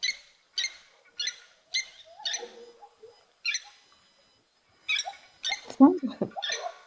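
Repeated short chirping calls from an unidentified bird at an African waterhole come in a steady series, joined later by lower sliding animal sounds at close range.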